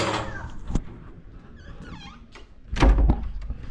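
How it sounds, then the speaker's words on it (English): A door shuts indoors with a firm thunk near the start, followed by soft squeaks and a heavier bump later, with no talking. "always close your door behind you."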